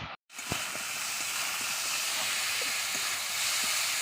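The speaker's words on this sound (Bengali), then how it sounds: "আমার এখানে সবজিগুলো ভাজা হয়ে গেছে" Vegetables sizzle steadily in a hot pan with salt and turmeric, a loud continuous frying hiss starting after a brief silence, with a few soft utensil clicks.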